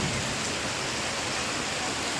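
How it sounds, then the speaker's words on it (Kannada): Heavy rain pours down steadily in the countryside of Kasaragod, giving an even, dense hiss that fills the whole moment without pause or other sounds. "ನೋಡಿ ಇವಾಗ ಜೋರಾಗಿ ಮಳೆ ಬರ್ತಾಯಿದೆ"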